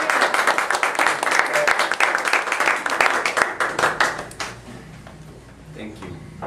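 Toastmasters audience gives warm applause to a speaker, the area governor, as a dense burst of many hands clapping that holds for about four seconds, then thins to scattered claps and fades.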